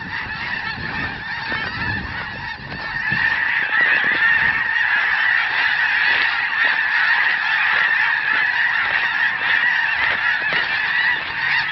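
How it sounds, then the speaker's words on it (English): A flock of snow geese honks continuously as the birds take flight together, a dense, loud chorus of overlapping calls that swells after a few seconds and stays steady throughout, with no talking. "Snow geese, ladies and gentlemen. Oh, there they go."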